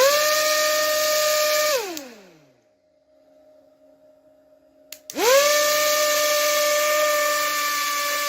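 Small electric fan powered by a supercapacitor whirring loudly with a high tonal whine, spinning down to near silence, then restarting abruptly and quickly returning to a steady strong hum; no one speaks.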